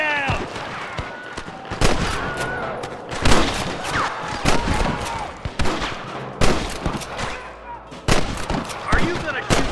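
Gunfire erupts in a shootout with rustlers in Red Dead Redemption, repeated loud rifle and pistol cracks in irregular bursts, near and far, with shouting voices in between.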